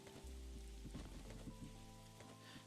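Rain falls in a video game as a steady soft patter under low droning background music with a few brief tones, quiet and continuous, without speech.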